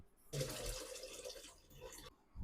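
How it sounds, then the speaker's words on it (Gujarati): Water runs from a tap into a tub being filled for washing potatoes before making potato wafers, a steady close rushing stream that starts abruptly and stops near the end. "આપણે એક ટબ પાણી ભરી લીધું છે."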